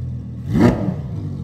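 Lamborghini Huracan Evo with a titanium exhaust revs once, its exhaust valve opening; a brief, loud, close rise-and-fall burst of engine roar stands alone over a steady idle rumble.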